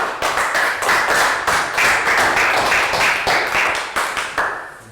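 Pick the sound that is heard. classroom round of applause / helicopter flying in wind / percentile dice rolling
classroom round of applause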